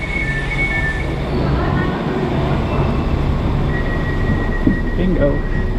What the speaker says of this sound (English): I'm going to be boarding this train coming in right now, which makes me really happy. And it is a diesel-powered train